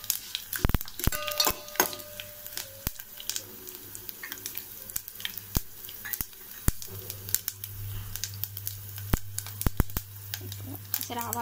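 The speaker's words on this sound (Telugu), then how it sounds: "సరే ఆవాలు పేలుతున్నాయి" Mustard seeds crackling in hot oil for a tempering, with fenugreek and cumin also in the pan for Andhra-style sambar: sharp, scattered pops and clicks over a low steady hum, with a voice talking faintly in places.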